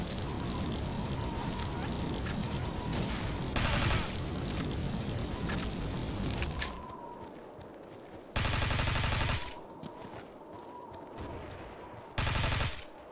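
PKM machine gun fire in Battlefield 2 with the Spec Ops Warfare mod on the Oasis map: loud sustained automatic bursts that cut off, resume in short volleys, with game ambience between them.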